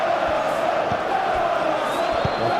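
Stadium crowd noise from eFootball PES 21 during an Arsenal vs Everton Premier League match, a steady, dense roar of fans in the stands with faint shouts and whoops, continuous and even throughout.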